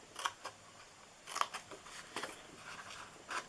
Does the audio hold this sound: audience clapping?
no